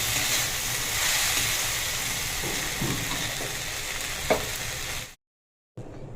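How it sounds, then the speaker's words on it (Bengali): Water spinach greens fry in a pan with a continuous loud sizzle, broken by a few scraping stirs, then a sudden brief silence before the sizzling resumes. "আমাদের শাক ভাজা রেডি"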